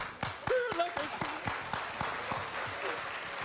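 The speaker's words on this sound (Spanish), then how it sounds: "vamos a aplaudirle a tu esposa porque es una héroe" Audience claps in distinct, evenly spaced, fairly loud beats on a Spanish-language comedy show, with voices calling out between the claps.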